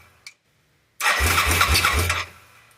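A Timberwolf engine left unused for a year cranks with a rapid low chugging and catches into a loud, rough run for over a second, then quickly fades, close and alone after a faint click.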